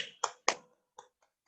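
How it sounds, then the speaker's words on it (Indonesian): A few sharp, isolated claps or snaps ring out for a student in an online elementary class: two louder hits close together, then a softer one, fading into faint taps over a quiet background. "tepuk tangan kepada teman kita Putri."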